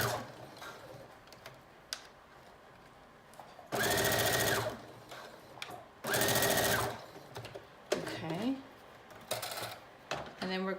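A sewing machine stitches elastic onto a mermaid prom dress in two loud, steady bursts of about a second each, separated by quieter handling and brief rustling, with no one talking over the stitching.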